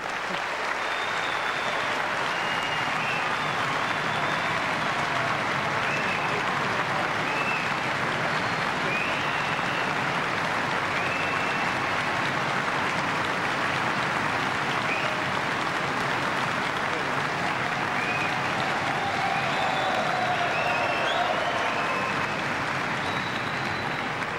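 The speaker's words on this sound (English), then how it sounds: "your vote and applause, please, for Alain Robidoux." Audience at a billiards trick-shot event applauding, a sustained, even roar of many hands that holds steady for over twenty seconds, with faint voices underneath.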